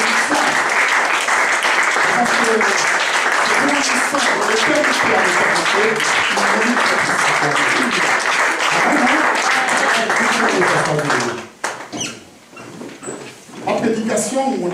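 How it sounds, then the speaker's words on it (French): A standing church congregation applauds during a French-language service, dense clapping with voices mixed in, then fading into scattered knocks and a brief pause before resuming. "Alors si vous pouvez vous lever, vraiment qu'on acclame le Seigneur."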